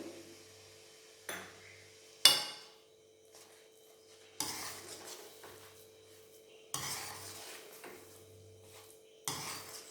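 Upma stirred in a pan: a spoon scrapes and clinks against the metal in short intermittent bursts, separated by quiet gaps, with a faint steady hum underneath.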